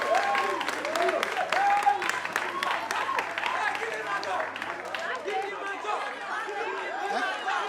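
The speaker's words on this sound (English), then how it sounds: "So please, a round of applause for the winners of the 2023 edition." Applause for the winners at a business competition grand finale, moderate clapping carried under lively crowd chatter and overlapping voices throughout.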